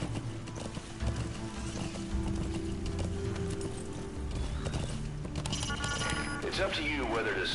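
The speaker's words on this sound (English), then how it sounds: "Anyone know how to make the horse go faster?" Horse hooves galloping in a video game, a rhythmic clip-clop running under game sound effects and music, with a brief whinny-like rise near the end; a voice talks over it.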